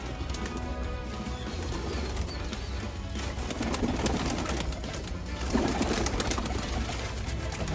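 Pigeons coo softly in low repeated murmurs against a steady background hum, with a few faint chirps and rustles scattered through, no speech.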